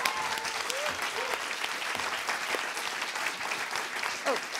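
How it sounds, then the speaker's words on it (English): Dense audience applause for a youth pitch session at a landscape forum, steady and continuous crowd clapping filling the whole stretch at moderate distance. "let's give these guys a huge round of applause"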